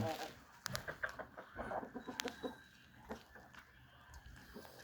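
Red roosters and hens on a small farm cluck in short, uneven bursts at close range, with light rustling and scratching between the calls.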